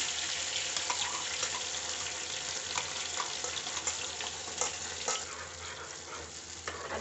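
Desi red chillies frying in hot oil for Schezwan sauce, a dense steady sizzle with crackling pops, close and continuous, with light stirring throughout and no voice.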